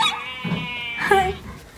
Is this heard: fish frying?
no